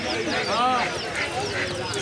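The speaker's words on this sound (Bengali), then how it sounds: "রাজা হাঁসের বাচ্চা এবং বড় রাজা হাঁস এবং দেশি হাঁসের বাচ্চাও পাবেন" Ducks, including large and native breeds and ducklings, quack amid chatter at a bustling poultry market in Sirajdikhan, with a clear nasal call standing out near the middle, under and between people talking.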